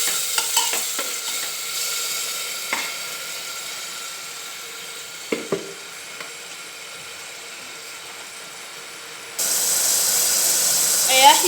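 Egg biryani masala simmers in a little added water in a home pot: a soft, low bubbling hiss broken by a few sharp utensil clinks, then a louder, steady sizzling rush near the end.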